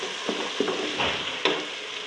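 Spices fry with softened tomatoes in a pan, giving a close sizzle over a short stretch, punctuated by a few distinct scraping stirs.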